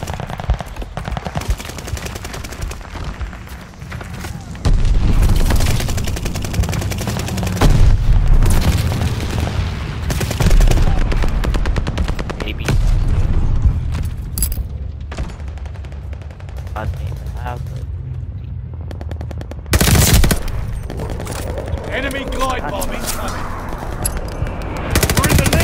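A new gun fires in the Call of Duty Vanguard video game, with rapid machine-gun bursts and heavy booming shots that repeat through a loud, dense battle soundscape.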